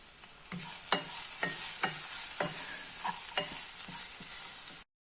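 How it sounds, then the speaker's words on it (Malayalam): Spices for tapioca masala balls, asafoetida, pepper powder and chaat masala, sizzle steadily in a hot pan, while a spoon scrapes and stirs in a regular series of sharp knocks; close and fairly loud, with no talking. "ഇനി ഇതെല്ലാം കൂടിയിട്ട് നന്നായിട്ട് വഴറ്റണം."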